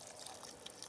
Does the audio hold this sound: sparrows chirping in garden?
no